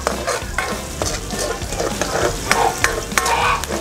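Garlic crisping in a hot pan gives a close, busy sizzle, broken by repeated scraping stirs of a utensil against the pan, with no voices.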